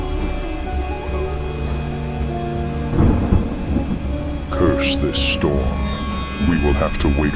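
A WarCraft 3 thunderstorm over a Northrend glacier: steady rain with rolling thunder claps around the midpoint and later, loud and close, with some brief voice-like sounds mixed in.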